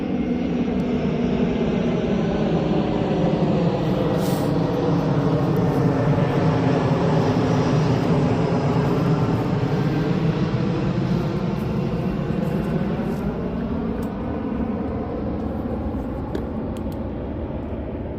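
An airplane flies over an Orlando cemetery, its loud droning engine roar sweeping with a slowly shifting pitch as it passes, fading a little near the end, with no voices.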